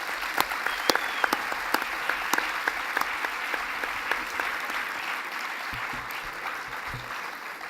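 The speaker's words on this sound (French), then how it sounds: "J'aimerais qu'on l'applaudisse pour ça." Audience applause at the close of a formal address by the president of the CNAEMO, steady dense clapping from a seated crowd in a hall, sustained for several seconds with scattered louder claps near the start.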